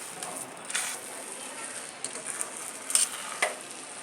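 Sevai is stirred with lemon juice in a hot pan, a spoon scraping and tossing close by in soft irregular strokes over a faint steady sizzle.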